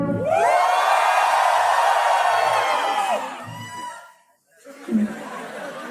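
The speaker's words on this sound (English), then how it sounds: "BTech students, give me a cheer." BTech students in a stand-up comedy audience let out a loud, sustained collective whoop and cheer that swells for about three seconds, then fades into scattered shouts and a brief burst of laughter.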